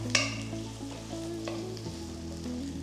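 Cabbage and three colours of capsicum sautéed on a high flame for vegetable noodles give a close, steady sizzle with stirring and occasional clinks of utensil on pan. No one speaks.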